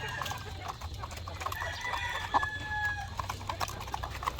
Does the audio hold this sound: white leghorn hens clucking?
yes